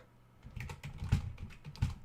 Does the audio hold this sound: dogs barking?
no